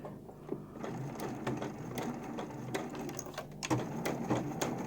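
A domestic sewing machine stitches a homemade fabric face mask with a nose wire, running in a steady close mechanical whir with small clicks and brief pauses, and no talk.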